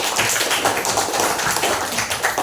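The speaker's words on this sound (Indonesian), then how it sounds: "tepuk tangan dulu untuk kelompok" A classroom of students claps for a presenting group, a dense, steady patter of many hands filling the whole stretch with no pause.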